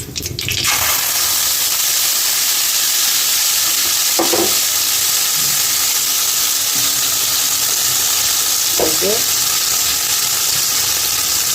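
Cauliflower frying with a paste of nuts, poppy seeds, coriander leaves and green chilli, a steady broadband sizzle throughout with a couple of brief stirring scrapes, no talk.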